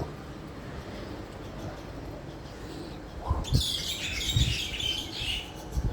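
Small birds chirp and twitter in quick, high bursts that start partway through, over a steady outdoor background hum with a few low thumps.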